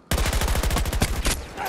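Rapid automatic gunfire in the video game Battlefield 2042, a loud, dense burst of around fifteen closely spaced shots filling the whole clip, ending with a fading tail.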